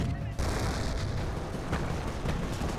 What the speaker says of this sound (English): heavy fire by this flak panzer